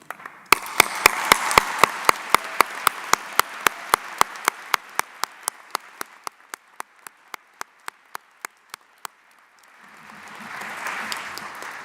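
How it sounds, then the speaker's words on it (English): Applause at a university faculty honors convocation: a crowd claps steadily for several seconds, the clapping thinning and fading toward the end before a brief stir of room noise. "Let's give a final round of applause"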